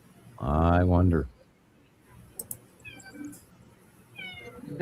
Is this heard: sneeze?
no